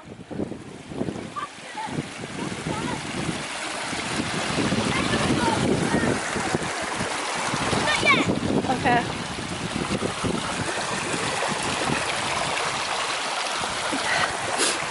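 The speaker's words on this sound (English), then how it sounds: "Waterfall." Rushing water of a waterfall on Bollihope Burn near Hill End in Weardale, a steady broadband roar filling the whole clip with some wind buffeting, fairly close and continuous.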